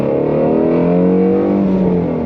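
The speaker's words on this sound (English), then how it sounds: "we're just gonna accelerate through a few gears here" A Ford GT350R engine pulls hard through several gears, its rising, steady roar loud and close with no talking over it.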